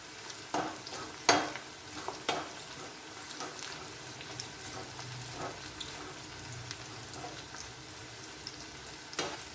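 Onions frying crisp in hot oil for fried onions, with a steady sizzle throughout and repeated scraping stirs of a utensil in the pan, a few sharper knocks standing out.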